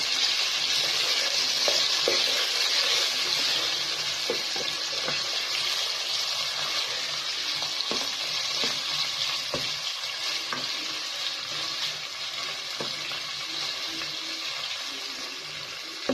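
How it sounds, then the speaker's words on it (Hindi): Chicken pieces fry in hot oil over a high flame, giving a loud, continuous sizzle with scattered pops and occasional stirring clatter throughout; no one speaks. "चिकन को फ्राई करते हैं। तेज आंच पे"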